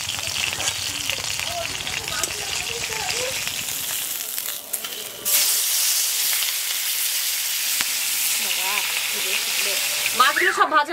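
Fish frying slowly in oil on low heat, a steady close sizzle and hiss that grows denser partway through, with voices talking over it in places.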